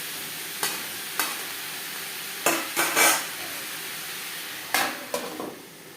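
Chopped ash gourd with salt and turmeric is stirred in a pan, making several short, scraping spatula strokes spaced irregularly over a faint, low sizzle.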